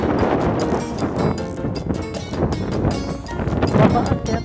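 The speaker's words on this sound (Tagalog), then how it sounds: "Sobrang hangin talaga." Strong wind gusting across open countryside, a loud continuous rushing that buffets the microphone with rumbling bursts, rising and falling throughout with no voices.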